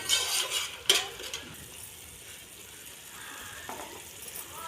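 Onions with salt fry in a pan, giving a soft, low-level sizzle with faint stirring scrapes, one sharp clink early on and a short burst of louder crackle partway through, with no voices.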